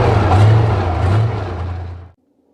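T-62 tank engine started by air start, a loud low rumbling roar with a steady deep hum that holds for about two seconds before cutting off abruptly into silence.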